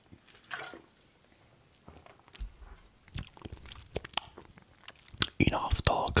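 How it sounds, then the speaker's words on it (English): Wet male ASMR mouth sounds with water, close and intimate: soft clicks and smacks in scattered bursts that grow louder and denser toward the end, with quiet breaths between. "And some mouth sounds."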